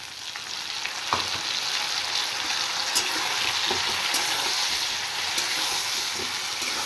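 Potato and drumstick (moringa) pieces stir-frying in a pan with tomato and green chili paste, a steady loud sizzle with occasional scraping stirs throughout.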